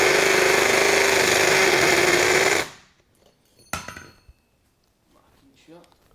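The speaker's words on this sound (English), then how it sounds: "You can get by with your Ryobi HP hammer drill. Let's put it on hammer mode." A Ryobi ONE+ HP hammer drill runs in hammer mode at top speed into masonry, a loud dense buzzing roar that stops abruptly, followed by quiet clinks and handling.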